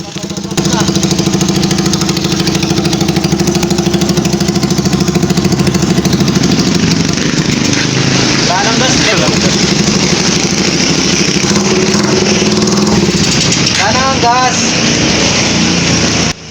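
A motorcycle engine fitted with a rapid backfire exhaust runs steadily and loudly throughout, a continuous rough drone with a few revving swells toward the middle and end.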